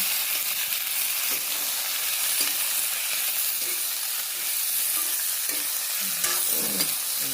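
Ingredients being stirred in a hot frying pan with salt added, a steady sizzling fry under repeated scraping strokes of a spoon, close and continuous with no talking.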